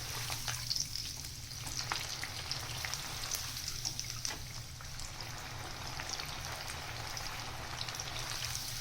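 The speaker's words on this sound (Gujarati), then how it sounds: "અને હવે ગરમ તેલમાં તાવડો ડુબાડશું" Breaded cutlets deep-fry in hot oil inside a slotted frying ladle for a traditional wedding-style recipe, giving a steady, close bubbling sizzle with a low hum beneath, continuous and unbroken throughout.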